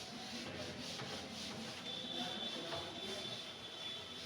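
A duster rubs chalk formulas off a classroom board in a series of rhythmic, scrubbing strokes, fairly close and steady over a few seconds, with no voice over them.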